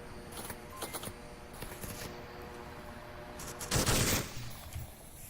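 Bursts of automatic weapon fire crackle from a VR shooter, Onward, during a competitive league match, with several short volleys separated by gaps and a heavier sustained burst near the end.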